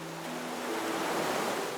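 Broad, steady wash of ocean surf in the game Honkai: Star Rail, a soft continuous roar of waves that swells slightly toward the end, with a faint low musical tone underneath at first and no talking.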